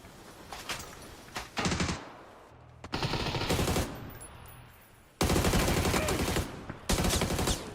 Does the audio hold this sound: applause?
no